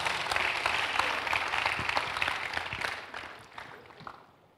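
Church congregation applauding together during a sermon, a dense, steady wash of clapping that holds strong for a few seconds, then thins out and fades toward the end.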